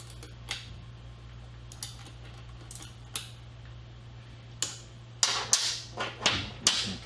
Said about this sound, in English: we can put final tightness on the cap screws holding the press down to the drive